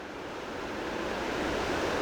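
A waterfall pours straight into the sea at Harts Cove while ocean waves break nearby, making a steady, loud, broadband roar that builds slightly and never lets up.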